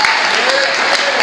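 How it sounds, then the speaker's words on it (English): Dense, steady clapping from an audience at a hip hop show on a sound stage, loud and close, with voices mixed into the crowd noise. "I appreciate those applause."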